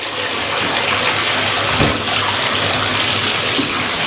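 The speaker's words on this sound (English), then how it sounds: "Next job we're going to do is fill the bath up." Water gushes from a tap into a bathtub as it fills, a loud, close and continuous rush with a steady splashing texture and no talk.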